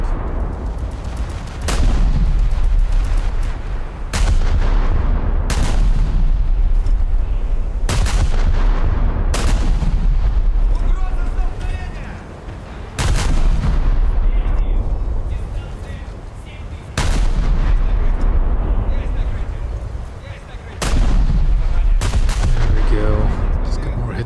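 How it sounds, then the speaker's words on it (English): Anti-aircraft guns on a Pr.68 cruiser in a naval video game fire in long, loud continuous bursts of rapid gunfire. Short pauses break the bursts into roughly five sustained volleys. "The air guns are opening up."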